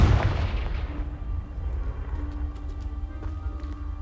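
A Confringo blasting spell in Hogwarts Legacy bursts against a pile blocking a stairwell, a loud close boom opening the moment and then decaying into a rumbling tail with faint scattered debris clatter.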